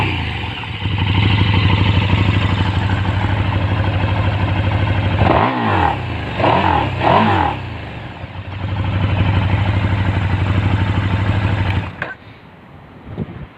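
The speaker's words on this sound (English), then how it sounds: "Picks up revs really quickly." A 2018 KTM Super Duke 1290 R runs at a steady, loud, close idle, then blips its throttle in three quick revs that rise and fall sharply before settling back to idle and cutting off.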